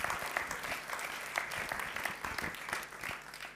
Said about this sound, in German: boah, toll, die können klatschen